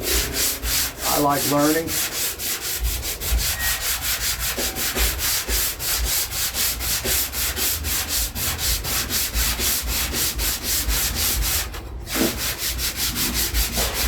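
Steady rhythmic sanding with a Black Diamond flexible sanding block over SPI-primed bodywork, a continuous repeated rasping stroke close by, with a short voice breaking in partway through.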